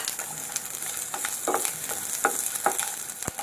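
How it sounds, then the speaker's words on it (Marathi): Onion sautéing in a spoonful of oil in a hot pan over medium heat, a steady close sizzle with occasional scrapes and stirring clatter from the utensil, and no voices. "मी त्याच्यामध्ये कांदा घालून लालसर होईपर्यंत परतून घेणार आहे"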